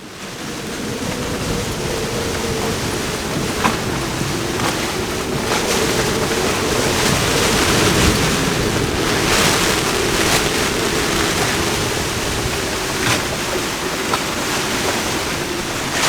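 Steady wind roars with waves slapping and surging around an anchored sailboat at night on the Basque coast of Spain, loud and continuous with occasional gusts and creaks, no voices.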